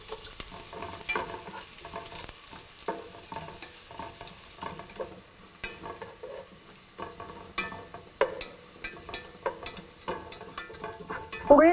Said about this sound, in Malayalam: കടുക് പൊട്ടിക്കഴിയുമ്പോൾ തിന്നായിട്ട് കട്ട് ചെയ്ത് വെച്ചിരിക്കുന്ന ബാക്കിയുള്ള ചെറിയുള്ളി ഇട്ട് വഴറ്റുക.